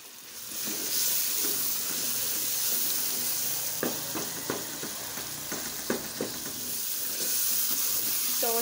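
Dal and pumpkin sizzle steadily as they fry in a pan, with a constant hiss and periodic scraping taps of stirring, moderately close and with no talking.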